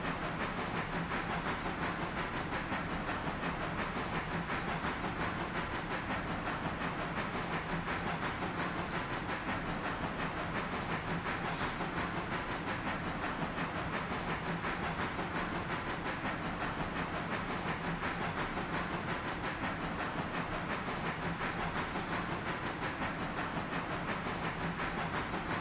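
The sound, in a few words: train running in video game Railroader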